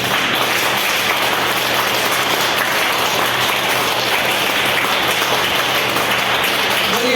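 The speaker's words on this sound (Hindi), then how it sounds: "एक बार और जोरदार आप करतल ध्वनि बजाएंगे।" A large audience claps continuously and rapidly at a heartfulness meditation session, a dense, steady wash of many hands with no pauses, loud and close throughout.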